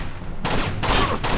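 Gunfire bursts from the video game Uncharted 2, with loud, dense volleys of shots arriving in three distinct waves separated by brief lulls.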